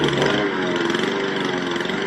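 A lawn mower engine drones steadily and loudly, a constant buzzing motor hum running throughout without pauses.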